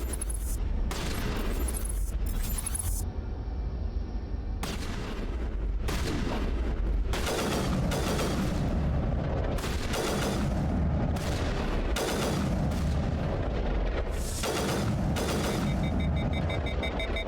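Sniper rifle shots in the Mass Effect video game, heavy booming reports repeating every second or two amid dense, continuous combat noise and explosions.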